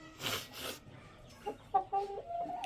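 A white rooster clucking close by, a few short uneven clucks and throaty calls after a couple of soft rustling bursts, with no talking.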